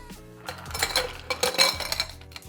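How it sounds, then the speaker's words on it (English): Quick stir of a Carajillo Old Fashioned cocktail, a short run of light clinks and rattles of a spoon against glass and ice lasting about two seconds, close and with no speech. "And only a quick stir."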